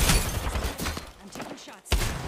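Gunfire in the Apex Legends video game, several sharp shots spread through the moment, one loud close blast near the end, with some talk-like activity mixed in.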